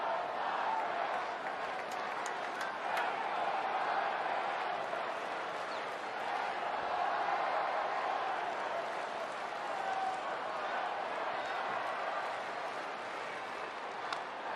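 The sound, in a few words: baseball stadium crowd cheering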